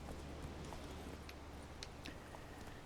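Horse hooves clip-clopping in the Witcher 3 video game, a faint, uneven series of soft hoof clicks over a low steady background rumble.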